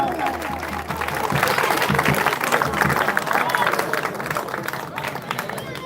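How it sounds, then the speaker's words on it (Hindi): Audience applause at a cricket club award ceremony, a dense burst of clapping mixed with crowd chatter and a voice over a loudspeaker, steady and fairly loud for several seconds. "आपकी तालियां कम है यार।"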